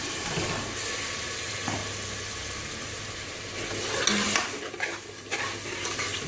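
Split yellow moong dal roasts in a hot pan as it is stirred, giving a soft, steady sizzle with a few scraping stirs and light clatters, fairly quiet and with no talking.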